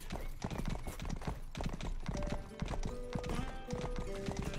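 Horse hooves clip-clop at a steady pace in the Western video game Rustler, the rhythmic thuds running under a busy layer of game music and ambient noise for the whole stretch.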